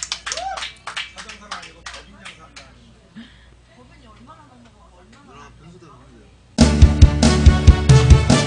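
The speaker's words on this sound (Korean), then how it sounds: "우리 아군분들 박수 쳐줘야 돼요" At a local Korean singing event, the audience claps in short bursts around talking voices. After a quieter pause, a loud burst of clapping and crowd noise starts near the end as the singer begins.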